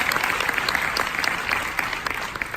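Conference keynote audience in Fort Worth, Texas breaking into applause, a dense stretch of sustained clapping from a roomful of people that holds steady and then eases slightly toward the end.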